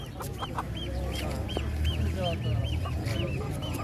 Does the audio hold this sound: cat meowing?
no